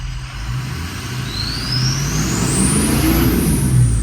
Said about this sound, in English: I'm gonna accelerate again. There's the miss, and it cut back out.